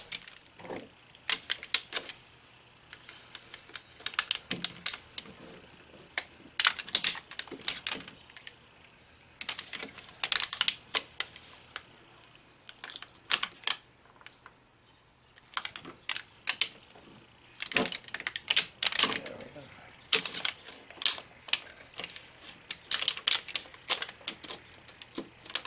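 Foil crinkles and crackles in bursts as it is folded flat, double-folded and pressed around a knife blade to seal it for heat treatment. The close, irregular rustles are separated by short pauses, with no talking.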